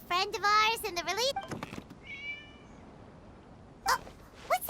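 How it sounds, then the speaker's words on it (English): A cat meows in Genshin Impact, with several drawn-out, wavering cries up front, then a thinner high mew and a few later sharp bursts, close and clear. "It was just a cat."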